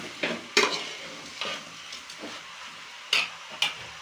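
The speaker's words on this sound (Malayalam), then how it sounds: "നല്ലോണം മിക്സ് ചെയ്ത് കൊടുക്കണം." Chicken pirattu stirred in a pan over a high flame: a run of sharp, irregular scraping strokes rises out of a steady close sizzle, with no voices.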